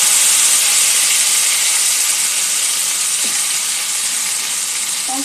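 Onion, ginger and garlic paste fries in a pan with a loud, close, continuous sizzle and hiss that eases slightly over time, with a faint stir near the end.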